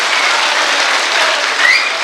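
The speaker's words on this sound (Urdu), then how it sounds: "میں چاہتا ہوں ایک بار زوردار تالیوں سے آپ اپنی موجودگی درج کرائیے" An audience at a mushaira and kavi sammelan poetry recital in Baradari, Ghaziabad, claps steadily and loudly. The dense applause runs without a break throughout.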